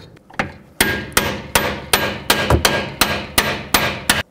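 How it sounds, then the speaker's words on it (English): Sharp metallic hammer blows drive a front bolt through with a pry bar while a lower control arm is replaced on a 2001-06 Toyota Camry. About ten close, ringing strikes fall in a steady rhythm, nobody talking. "I'm going to try and keep hammering in the rest of the way with my pry bar and hammer"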